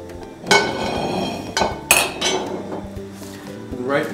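Pasta stirred in a pot of boiling water for pappardelle with bacon and peas, with several sharp clanks of a utensil against the pot over a steady bubbling background; no voices.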